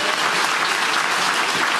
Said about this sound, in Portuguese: enquanto a igreja aplaude bem lindo recebendo esse homem de Deus.